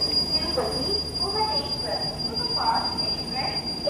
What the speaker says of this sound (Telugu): డబుల్ డెక్కర్ ట్రైన్ ఇదేంటి మన డబుల్ డెక్కర్ ట్రైన్.